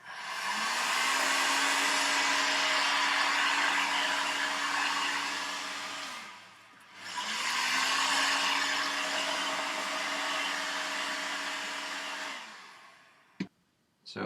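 Heat gun blowing hot air onto cosplay helmet material, a close, steady whooshing roar with a constant motor whine, running for about six seconds, cutting off briefly, then running again before switching off with a click.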